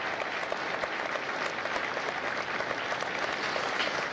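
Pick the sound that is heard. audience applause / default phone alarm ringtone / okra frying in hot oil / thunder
audience applause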